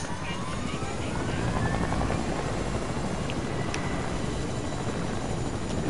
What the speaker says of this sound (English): Oh no, I forgot the helicopter's over here.